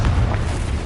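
Confringo blasting spell in Hogwarts Legacy, a single loud, deep explosive boom that rumbles briefly and fades.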